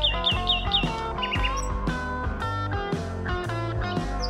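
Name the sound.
peacock call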